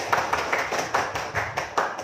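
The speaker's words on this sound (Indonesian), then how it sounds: "Tepuk tangan untuk Bapak Ibu semua." Audience at an Islamic religious talk about umrah clapping in a loose, rhythmic patter of repeated hand claps, moderately loud and fairly close, with no voices over it.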